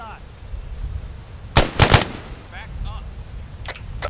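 A short burst of three or four sharp, loud rifle shots rings out in an ArmA 3 military firefight, set against quiet background noise, with radio-style voice chatter before and after.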